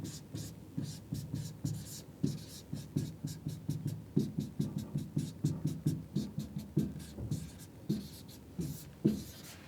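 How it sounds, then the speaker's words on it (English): Rhythmic scratching strokes of a marker or chalk writing out a logic argument on a lecture board, steady quick taps and rubs continuing throughout, close and without speech. "let's begin by writing up the entire argument"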